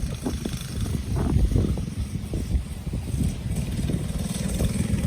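A Motovox Platinum mini bike runs on grass or dirt, its small engine buzzing and revving unevenly at mid distance, mixed with wind noise and no speech.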